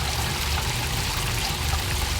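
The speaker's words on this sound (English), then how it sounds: "This wall fountain, dressed in bright tiles, carries the Andalusian tradition of turning water into art." Water pours steadily into a basin from a tiled wall fountain in a Seville garden, a continuous close splashing rush with no voices.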